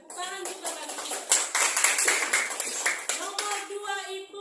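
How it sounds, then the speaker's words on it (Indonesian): A classroom of students claps together in a lively burst that builds and then fades, with voices speaking over the clapping. "Tepuk tangan juga bagi kita"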